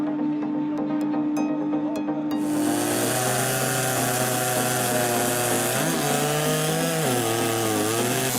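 A big chainsaw cuts through a tree, its engine whining in a steady high-pitched drone that roars up after a couple of seconds and dips briefly in pitch as the bar bites into the wood.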